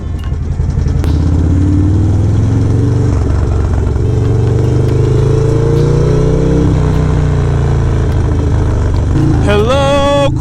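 Motorcycle engine riding through gnarly New York City traffic, a loud, close, continuous drone that rises and settles as the bike accelerates, with a sharp rising rev near the end.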